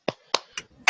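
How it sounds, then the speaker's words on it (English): A few sharp hand claps during an online meeting, four quick distinct smacks in under a second, close and fairly loud, with no talk. "Give a round of applause again."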